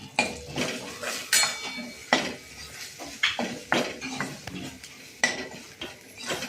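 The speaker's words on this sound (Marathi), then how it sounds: "हे चांगलं फोडणीमध्ये परतून घ्यायचं आहे." Ginger, turmeric, asafoetida and chilli powders are stirred in hot tempering oil in a pan for katachi amti. A spoon scrapes and clinks against the metal in irregular, close strokes, with no talking.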